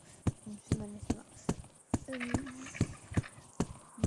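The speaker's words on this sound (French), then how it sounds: "Donc on continue ma petite reprise, c'est au trot de travail là sur ce coup-ci." A horse trots through a working-trot test at a first eventing competition, its hooves clip-clopping in a steady rhythm, close and distinct, with a brief whinny-like tone partway through.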